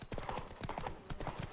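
Roach, the horse in The Witcher 3, gallops with rapid, rhythmic hoofbeats in quick repeating clusters, close and fairly quiet, with no other sound.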